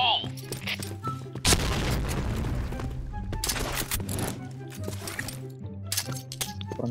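A grenade blast in a military shooter game, a sudden loud boom that rolls out into a long, rumbling tail over steady background game noise and music-like tones.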